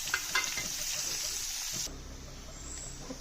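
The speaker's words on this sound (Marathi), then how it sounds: "तेल ओतलं, जिरं टाकलं. आता कांदा टाकते." Onion and cumin sizzling in hot oil in a heated kadhai, a dense steady fry that drops to a softer, quieter sizzle partway through, with no talk over it.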